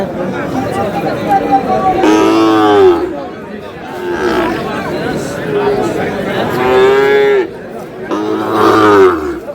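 Sahiwal bull calves at a cattle market moo repeatedly, several loud, close calls spaced a couple of seconds apart, over a steady background of people talking.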